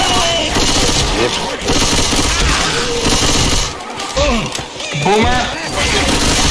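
Dense video-game gunfire rattles nearly nonstop in a zombie co-op shooter, rapid bursts layered with loud shots and a heavy thud, while voices talk over the chaos.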